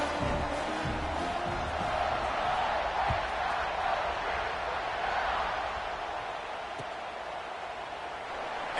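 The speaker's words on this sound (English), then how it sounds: "this crowd is buzzing after that last score" A college football stadium crowd buzzes after a score, a broad, steady roar of many voices filling the space, fairly distant and unbroken, slowly easing toward the end.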